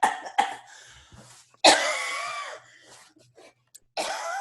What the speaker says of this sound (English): No, that was definitely a cough.